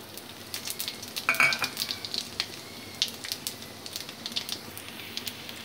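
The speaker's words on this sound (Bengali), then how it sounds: "এবার ফোড়নগুলো সব দিয়ে দেবো আমি তেলের ওপরে" Whole spices crackle and sizzle in hot mustard oil in a kadai for a Bengali mixed vegetable dish, a steady close frying hiss with scattered pops and a denser burst early on, with no one talking.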